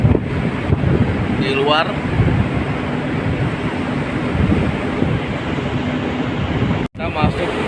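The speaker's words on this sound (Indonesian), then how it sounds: "di sini memang kondisinya angin sangat kuat sekali" A strong wind roars steadily and loudly outside on the deck of a passenger ship, buffeting the microphone as someone speaks briefly over it.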